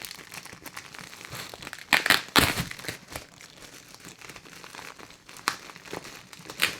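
Plastic packaging around Noro wool yarn crinkles and crackles as it is pulled open. The rustling is close and uneven, with a few sharper crunches and tearing bursts.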